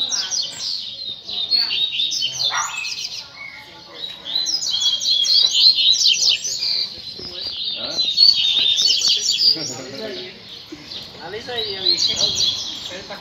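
A double-collared seedeater (coleiro) sings from its perch, a close, loud run of bright, rapid chirping phrases repeating with short gaps, with other birds and some background voices faintly present.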